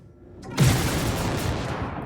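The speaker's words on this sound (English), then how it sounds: "You got two big laser cannons and then two small laser repeaters, looks like." Laser cannons and laser repeaters fire from a ship in the Star Citizen space game, a sudden loud burst of rapid blasts that keeps roaring after a short quiet lead-in.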